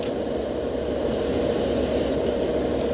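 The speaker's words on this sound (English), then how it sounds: "you're spraying on your stencil more than you're spraying on your bait" Paint sprayed from an airbrush onto a craw stencil laid over a fishing lure, producing a steady, close hiss that runs unbroken for a few seconds with no talking.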